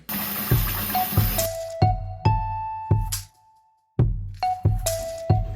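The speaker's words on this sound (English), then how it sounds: "I'm gonna add more hot water and flip all of this laundry" Hot water is poured onto laundry soaking in a tub, with a gushing pour at first, then a series of sharp clinks, splashes and short wet knocks separated by brief pauses, close and fairly loud.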